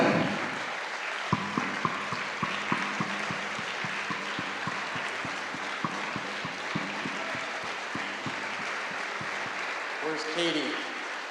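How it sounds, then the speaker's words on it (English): A big round of applause rises for the speakers at a TEDx event at Brentwood College School, with dense sustained clapping under a voice talking over a PA, plus scattered sharper claps and a few cheers. "I'd like to invite all the speakers to come on out so we can give them a big round of applause."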